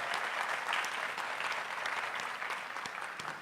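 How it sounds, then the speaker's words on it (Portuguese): A lecture audience claps in sustained, dense applause that fills the room evenly, with no speech over it. "eu queria uma salva de palmas logo para ele nesse sentido"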